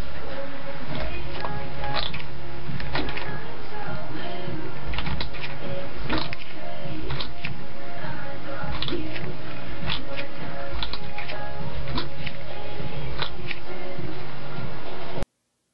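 A CNC machine axis is turned by hand with its stepper motor disconnected from the driver, giving a series of sharp mechanical clicks and ticks at an irregular rhythm, close and fairly loud.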